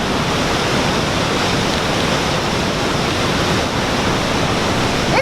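Victoria Falls in Zimbabwe, Africa's largest waterfall, roars with a steady, dense, broadband rush of crashing water, loud and close throughout with no voices.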